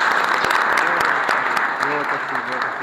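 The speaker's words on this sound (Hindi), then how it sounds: "तालियां तालियां मारो" Clapping from a gathering during a Sunday candle-lighting service, irregular sharp claps from several people mixed with voices talking over them.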